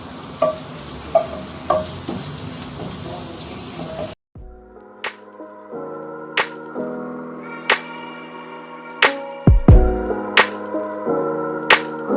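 Carrot frying in a pan gives a dense sizzling crackle with small pops for a few seconds, then cuts to a quieter stretch of sharp taps and clinks with ringing tones.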